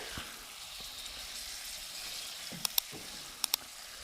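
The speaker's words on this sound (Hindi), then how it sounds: "इसको डाल के अच्छे से हम भून लेंगे ताकि जो हल्दी का कच्चापन है वो निकल जाए" Turmeric and spices roasting in a pan over medium flame: a faint steady sizzle with soft stirring and a few quick sharp ticks and pops toward the end, quiet and close.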